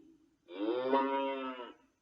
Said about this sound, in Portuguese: Ela mugiu.